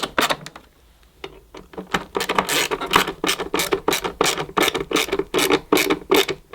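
Screws on a 1999 Hoover Turbopower 2 vacuum cleaner being tightened by hand with a screwdriver, giving close, rapid ratcheting clicks in quick bursts with short pauses between turns.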